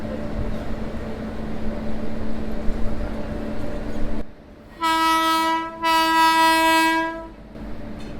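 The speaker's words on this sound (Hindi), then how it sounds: "बहुत ही खूबसूरत अराइवल हो रहा है जननायक एक्सप्रेस का।" Jannayak Express train horn sounds loud and close at a platform, two long sustained blasts back to back after a stretch of rumbling station and rail noise.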